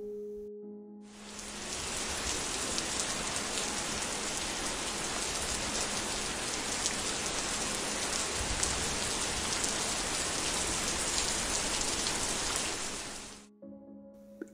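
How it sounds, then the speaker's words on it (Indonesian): Steady, dense rain falls in a forest for about twelve seconds, close and loud, beginning and ending abruptly. "Hujan nih Om."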